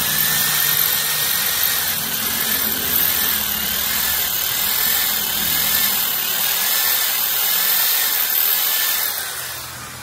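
A drill bores into a broken screw to extract it, a continuous loud high-pitched whirring grind with slight wavering in pitch, running steadily throughout.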